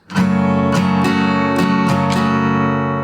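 Acoustic guitar strums the rhythmic chord pattern of a song, several down and up strokes, bright and close, with no voices.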